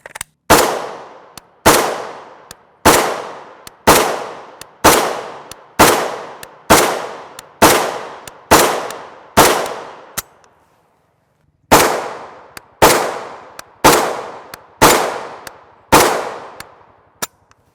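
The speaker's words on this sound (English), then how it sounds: "On to our 16-inch AK. This is our Palmetto State Armory GF3." Rapid series of loud, sharp gunshots from a 16-inch AK rifle, a Palmetto State Armory GF3 firing 7.62x39mm 123-grain rounds, nine evenly spaced shots, a brief pause, then six more, each with a short decaying ring.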